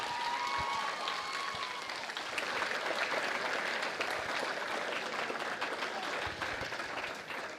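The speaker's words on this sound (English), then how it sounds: "Would you give this class of 2026 one more round of applause" A crowd applauds the class of 2026 at a North Dakota high school volleyball event, the clapping sustained and fairly distant, filling the hall evenly for several seconds.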